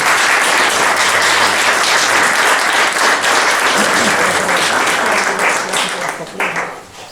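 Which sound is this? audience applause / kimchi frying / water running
audience applause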